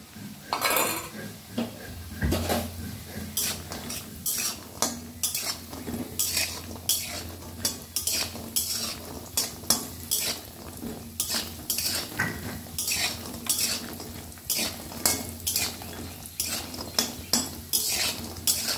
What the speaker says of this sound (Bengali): তেল গরম হয়ে গেছে, আমি বড়ি কটাকে ভেজে নেব।